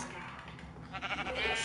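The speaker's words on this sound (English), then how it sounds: "Sheep. Give me your wool." A Minecraft sheep bleats once, a short wavering baa heard close over a steady background hum, with a voice speaking at the same time.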